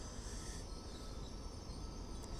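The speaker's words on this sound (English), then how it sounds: "And now coming in is a tamper of some variation." A railway track tamper rolls through Doncaster station on the East Coast Main Line, its wheels grinding and squealing steadily on the rails at close range.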